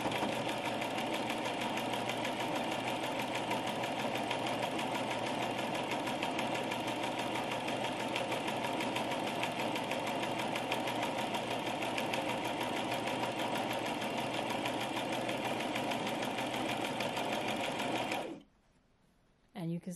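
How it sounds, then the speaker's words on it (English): A domestic sewing machine runs without a break as it stitches a straight seam through fabric, a loud, steady mechanical whir that holds for about eighteen seconds and then stops. "as I'm sewing, I don't want to look at the needle"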